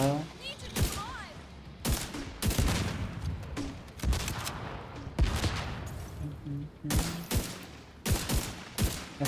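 Gunfire from a shooter video game: dense, rapid bursts and repeated sharp shots, loud and close, with brief pauses between volleys and some voices mixed in.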